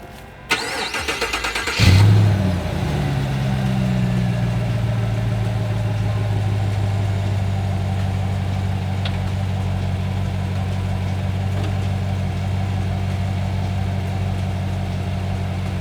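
An ECD Defender engine cranks and catches with a sharp start burst, then settles into a steady, loud, continuous idle with a deep low rumble that holds unchanged for over ten seconds; no talking.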